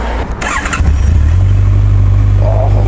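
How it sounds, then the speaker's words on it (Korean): A Honda CB1100RS air-cooled four-cylinder motorcycle engine cranks briefly and catches, then settles into a loud, close, deep and slightly uneven idle rumble. "시동 사운드 보여드리겠습니다."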